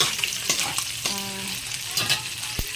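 A cocoa mixture being stirred in a frying pan while cooking an egg dish, with a spoon scraping and knocking against the pan over a steady sizzle, several distinct strokes at close range.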